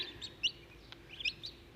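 Egyptian baladi domestic ducks, apparently young, give two or three short high-pitched peeps in quick bursts against a quiet background.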